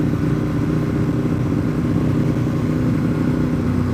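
A motorcycle gang with trikes rumbling past on a Smoky Mountains road, a dense overlapping low engine drone that stays steady and moderately loud, blended pipes without clear individual revs.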